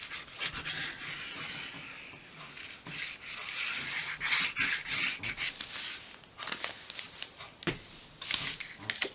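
Fingers rub and spread glitter glue across the back of pattern paper, making a close, dry, uneven scratching and swishing in repeated strokes with no talking.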